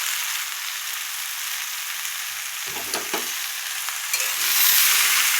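Chopped ridge gourd frying in hot oil gives a steady broadband sizzle throughout, with a brief stirring clatter near the middle and a slight swell in loudness toward the end; no one speaks.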